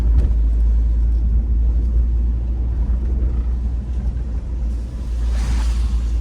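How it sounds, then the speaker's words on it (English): A car passes fast along a two-lane city street in Philadelphia's Carroll Park neighborhood, heard from inside a moving vehicle as a steady, loud road rumble that swells slightly near the end, with no voices. "that car was in the middle of the street and it was flying"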